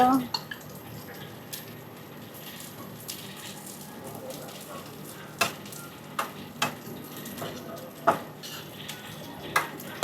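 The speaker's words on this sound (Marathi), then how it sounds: "व्यवस्थित जरा सगळं मिक्स करून घ्यायचं त्या फोडणीमध्ये" A spoon stirs soaked sabudana khichdi ingredients into a hot tempering in a pan, a soft sizzle under scattered sharp clinks of the spoon against metal, with someone talking at times.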